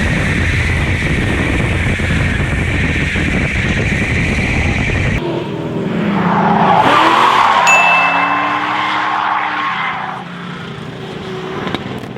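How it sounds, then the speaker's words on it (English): A Dodge Challenger drifts with a loud, sustained screech of tires under steady engine and wind roar, brakes locking in the slide, the squeal rising and then easing off near the end. "Goes into the slide, wants to correct, just locks up the brakes, trying to catch it."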